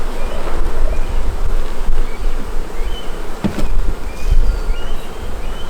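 Dense, steady buzzing of many honey bees at a hive with laying workers, close by, loud and continuous with faint wind-like rustle underneath.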